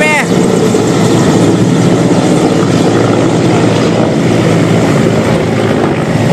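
A small aircraft roars close by with a loud, dense, steady engine and propeller noise throughout, taking off at Khetri behind another plane.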